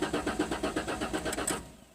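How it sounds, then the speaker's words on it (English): A 2000 Ford Mustang engine cranks without catching, the starter turning over in a steady, rapid rhythm for about a second and a half before cutting out, loud and close with no voices. "It's a crank no start,"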